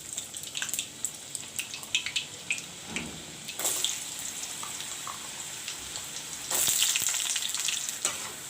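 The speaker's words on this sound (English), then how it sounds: "Now I will put in the potatoes to fry." Potatoes fry in oil for a Maggi noodles dish, giving a continuous crackling sizzle scattered with sharp pops and spatters. It swells into a louder burst of bubbling late on, and no voices are heard.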